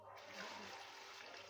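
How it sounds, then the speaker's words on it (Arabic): Water pours into a container on a balcony garden, a steady rushing stream that runs without a break and sounds close but fairly soft. "وهنملاه ميه، هملاه ميه"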